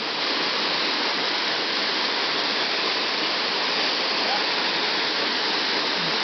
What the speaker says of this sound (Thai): มาเดินเที่ยวเล่นกันที่น้ำตกแห่งหนึ่งนะครับ